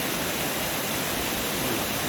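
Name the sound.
Montreal Falls waterfall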